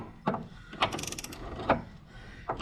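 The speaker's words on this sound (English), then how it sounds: "socket, swivel, 3/8 ratchet, and about a 18-inch" Several sharp ratchet clicks from a 3/8 ratchet driving a socket through a swivel and extension, spaced irregularly and heard up close with no talking.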